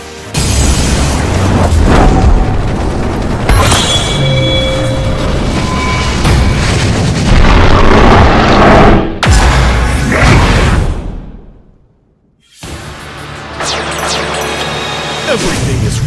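A loud, dense burst of explosive summon effects from the Yu-Gi-Oh Duel Links card game as the Rank 4 Dark Rebellion Xyz Dragon appears, with booms and whooshes that cut out briefly near the end before surging back.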